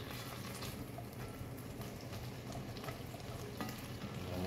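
Short ribs browning in a pan over medium heat give a steady, close sizzle and crackle that runs without a break, with stirring and scraping mixed in.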